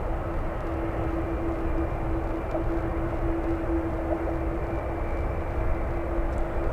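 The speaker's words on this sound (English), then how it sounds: "The 777 flying to Heathrow," Boeing 777 bound for Heathrow lining up on the runway at San Francisco airport: a steady distant jet engine drone with a sustained whine, constant and moderately loud, no voices.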